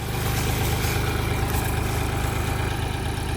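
A tractor engine idles steadily throughout, a low, even rumble with constant loudness and no voices over it.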